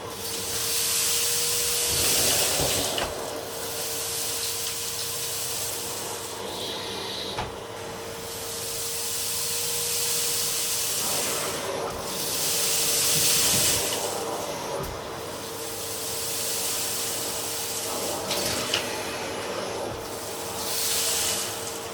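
A Numatic Henry Allergy vacuum cleaner (2026 model) run over carpet with its standard floor tool, giving a steady loud hiss and drone with a constant motor tone and surging bursts as the tool is pushed back and forth, no talk.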